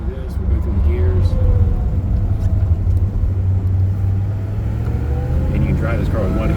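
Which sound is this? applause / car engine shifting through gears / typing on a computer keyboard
car engine shifting through gears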